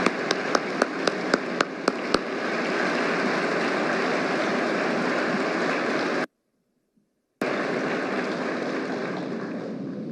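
An audience applauds the storyteller panels at a Memorial Day event: a dense, steady wash of clapping that follows a few sharp early claps and briefly cuts out to silence partway through.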